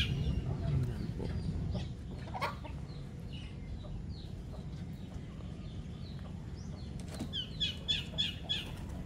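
Farmyard chickens cluck and flap their wings nearby, soft repeated clucks over a low rumbling background, with a burst of chirpy calls near the end.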